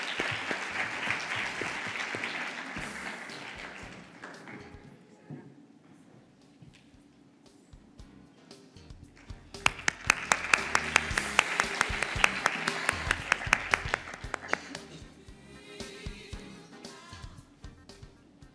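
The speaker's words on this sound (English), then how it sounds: "A big round of applause." Audience at the ICAN Dubai 2023 conference bursts into applause, a dense burst of clapping that rises for several seconds, fades, then swells again louder with sharp individual claps, with speech heard faintly before it.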